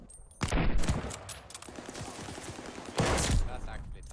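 Gunfire in Call of Duty multiplayer, two loud bursts of rapid shots roughly two and a half seconds apart with quieter scattered shots between them, fairly close.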